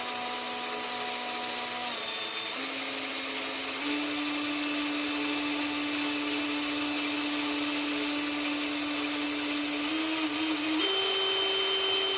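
A power drill bores a pilot hole through the steel bucket of a Kubota LA535 loader on an LX2610/B2371 tractor, with oil applied. It makes a steady, close, high whine that steps up in pitch a few times as the bit cuts, with no talking.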